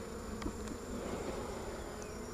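Honeybees buzz steadily around an open hive during an inspection, a dense, continuous drone close by with a few individual bees flying past, and no voices.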